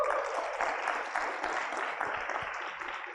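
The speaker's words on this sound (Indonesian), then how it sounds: "Mungkin tepuk tangan lagi dong, boleh?" An audience applauds steadily at a student seminar on overseeing the 2024 regional elections, a dense, fairly faint wash of clapping heard alone.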